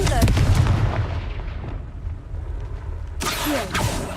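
A Confringo blasting spell bursts in Hogwarts Legacy, a loud booming explosion at the start that rumbles away, followed by a second sharp magical burst near the end.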